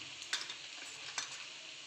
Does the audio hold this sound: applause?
no